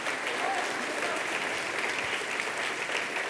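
Dense, sustained applause from a large crowd at a political campaign launch in a Paris venue, a steady wash of many hands clapping at once, loud and even throughout with faint voices mixed in.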